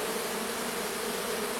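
Honeybees fanning at the entrance of a Japanese hive to call in a small swarm, a steady, dense buzzing hum with no voices.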